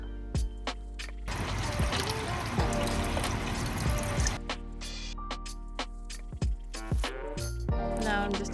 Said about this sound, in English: Now it's time to pour in the chicken broth.